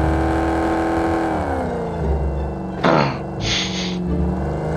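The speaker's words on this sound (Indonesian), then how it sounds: "Kayak denger mobil bre." Car engine in the game PUBG Mobile, a loud steady drone with tones sliding as it revs and shifts, a brief sharp burst partway through, with no talk over it.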